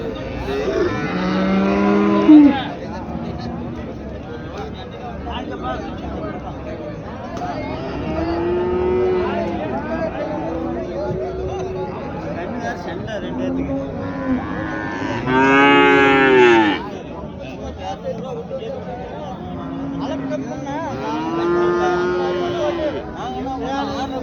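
A heifer moos several times, long drawn-out calls spaced apart, fairly close, with a low hum of background noise between them.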